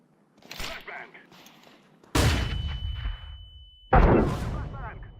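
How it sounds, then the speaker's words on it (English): A Counter-Strike 2 flashbang grenade bursts with a sharp, loud bang followed by a lingering high ringing tone, then a second blast hits about two seconds later, after scattered earlier game noises. "I'm throwing a flashbang."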